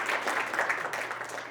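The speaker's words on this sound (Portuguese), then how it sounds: "Palmas para ele, por favor." Audience applause at a Portuguese-language talk on youth and environmental sustainability, a steady wash of clapping that holds for the whole moment at moderate loudness.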